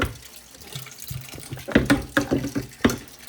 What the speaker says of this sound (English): Let's give the sink drain a little wash out.